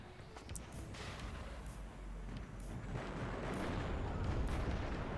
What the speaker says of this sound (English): M60 is just laying down the fire, tearing apart the M48s